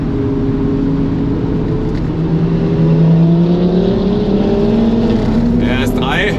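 A large-displacement car engine revs hard, its pitch climbing and sweeping upward several times as it pulls toward high rpm, loud and close throughout.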